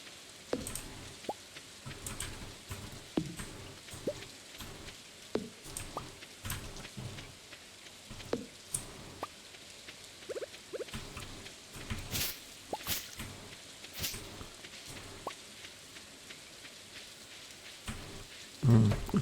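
Rain patters in the Stardew Valley video game, a soft continuous hiss broken by scattered sharp drips and taps throughout, with no one talking.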